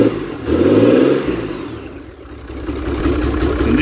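A Yamaha outboard boat engine, recently flooded, runs steadily nearby, its pitch rising and falling slightly as it revs, with a rough, throaty drone throughout.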